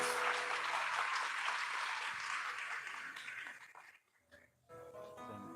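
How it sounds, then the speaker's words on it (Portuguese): A church congregation at Sunday Mass applauds in a broad, steady wash of clapping that fades out near the end, followed by a brief resumption of room sound. "Uma salva de palmas."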